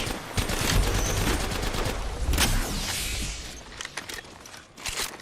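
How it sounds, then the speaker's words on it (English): Bursts of rapid automatic gunfire and scattered shots in a video game firefight, dense and loud at first, then thinning into sporadic blasts and mechanical clicks, with no speech. "Shooting at me."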